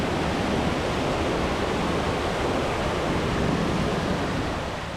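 Water at Punnayar waterfall in Idukki rushes steadily, a dense, loud, continuous roar that holds without a break and fades slightly at the end.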